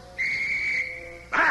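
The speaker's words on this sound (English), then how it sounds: "When you hear this whistle, you'll come to attention." A single long, shrill whistle blast at a snowy prisoner-of-war camp roll call for American prisoners, held steady for about a second, loud and close, followed by a brief burst of another sound.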